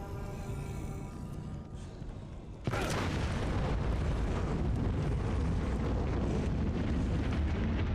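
A flashbang grenade goes off in Silent Hill: Ascension, one sudden loud bang that cuts off a quieter tonal passage and leaves a dense, sustained roar ringing afterward.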